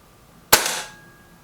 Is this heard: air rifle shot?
yes